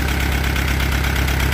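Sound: Allis Chalmers B tractor engine running

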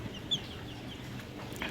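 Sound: chicken clucking

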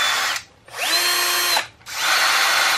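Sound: Bosch GSR 10.8 V-EC brushless cordless screwdriver running

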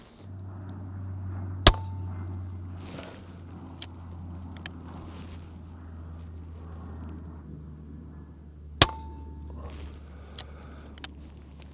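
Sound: Daystate Redwolf air rifle shooting Pro Hunter slugs

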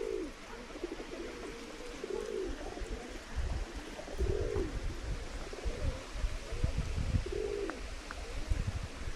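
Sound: pigeons cooing

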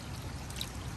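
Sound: pacu fish splashing in backyard pond

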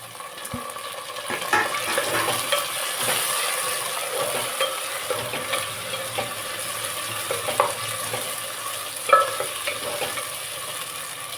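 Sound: frying onions and tomatoes in pan

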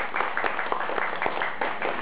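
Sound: audience applause for an elderly Chinese teacher

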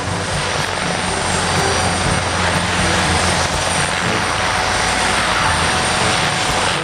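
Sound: toy military helicopter sound

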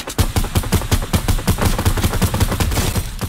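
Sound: gunfire in a Fortnite-style video game

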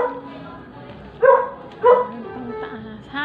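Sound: dog barking

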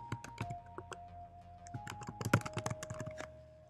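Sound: typing a search on a computer keyboard

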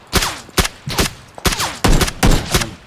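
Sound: gunfire in the video game Battlegrounds (PUBG)

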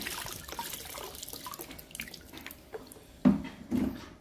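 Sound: tap water running while rinsing a pepper plant

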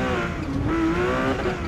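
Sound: car drifting with tire squeal, Porsche in Forza Motorsport video game

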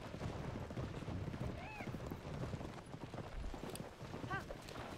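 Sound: horse hooves galloping in the video game Zelda Tears of the Kingdom

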